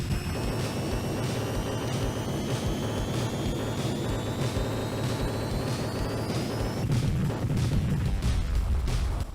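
In the 1980s NARC arcade game, the skeleton boss blows up amid dense, chaotic game noise: rapid repeated bursts under rising whistling tones, swelling into a heavier rumbling blast near the end.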